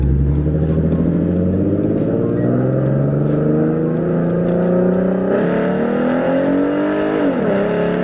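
A Ford Mustang 3.7L V6 fitted with BBK shorty headers accelerates on a city street, its engine note climbing steadily through the revs, loud and close, then a shift and a brief dip before rising again.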